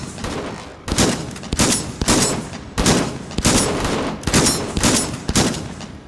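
Rifle fire in the VR shooter game H3VR, a series of about a dozen sharp, loud shots at irregular intervals, some in quick pairs, close and without talk.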